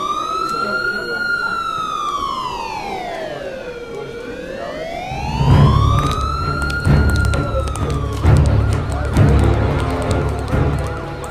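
An emergency vehicle siren wails in a slow rising and falling sweep, loud and close, then the tone breaks off as rumbling noise and clattering movement take over the scene.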